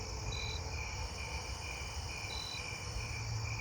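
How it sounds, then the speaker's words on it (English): A jumping bush cricket calls close by with sharp, high, brief chirps at spaced intervals over a steady insect chorus and low ambient rumble. "This jumping bush cricket sounds kind of close."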